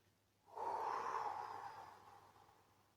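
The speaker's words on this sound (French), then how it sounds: "vous soufflez cet air au 4/5e en commençant par l'air que vous avez dans les poumons, puis dans le ventre" A single slow, deep exhale during a guided French breathing exercise, a soft breathy rush that swells quickly and then fades gradually, close and quiet with no talking.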